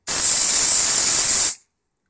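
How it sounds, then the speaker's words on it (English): Freezer spray is blasted onto a crystal oscillator circuit in an electronic frequency counter kit build, one loud close hissing burst of about a second and a half that cuts off abruptly. "So I'm afraid it's going to have to be the freezer spray."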